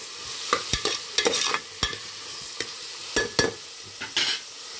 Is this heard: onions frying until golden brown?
yes